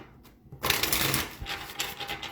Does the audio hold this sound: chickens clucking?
no